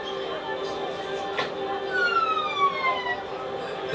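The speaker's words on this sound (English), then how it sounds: "Finder and her surviving children were finally picked up by an ambulance crew in West Point." An ambulance siren wails in the streets of West Point during the West African Ebola outbreak, its rising and falling tones sweeping past at moderate distance with a steady hum underneath.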